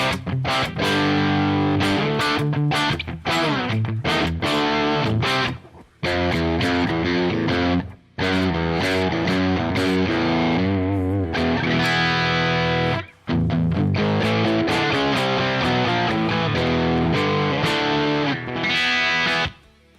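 A Telecaster electric guitar runs through an amp sim, playing heavily distorted chords and riffs, loud and sustained, broken by a few brief pauses, with no talking over it.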